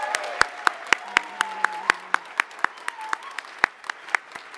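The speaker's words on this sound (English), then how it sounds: "Martin, Sky, Jaylene, please stand and we'll give them a round of applause again." A small audience at an Indigenous opening and welcome event claps in sparse, individual hand claps with a steady rhythm, fairly close and dry, with faint voices underneath.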